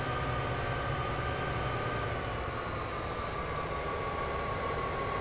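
A train in Train Simulator 2015 running the Soldier Summit mountain route, a steady loud rumble with a sustained engine drone and no break throughout.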